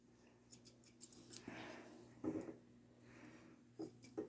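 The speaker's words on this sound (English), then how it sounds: "I got my curved scissors, by the way." Curved grooming scissors trim the hair around a small dog's paw during an at-home grooming session, giving several quick, faint snipping clicks spread across the clip with soft rustling between them.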